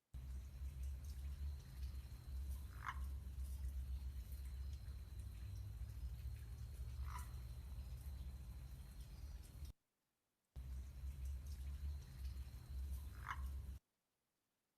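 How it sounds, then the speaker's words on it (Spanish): Three short croaking calls from a frog ring out at even intervals over a steady low background hum, faint and distant, with brief drops to silence between recordings. "es un canto típico de una rana"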